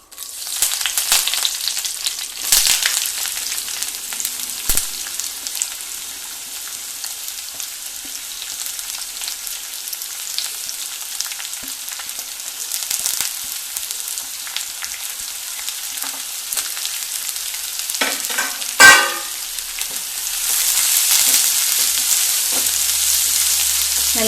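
Onion, green chili, ginger, garlic and curry leaves fry in a pan, giving a loud, continuous hiss of sizzling oil with a few brief stirring knocks, close up and without voices.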